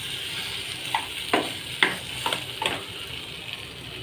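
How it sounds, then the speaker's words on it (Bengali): Potato and pointed gourd curry being stirred and sautéed with turmeric, cumin powder and salt in a pan, giving a soft steady sizzle broken by several short scraping stirs of a spatula, with no talking. "কষিয়ে কষিয়ে"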